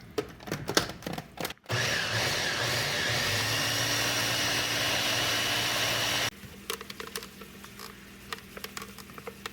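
A motorized mixer whirs loudly and steadily for several seconds as cauliflower mash is blended with sour cream and dried chives, set between short bursts of clattering and handling noise.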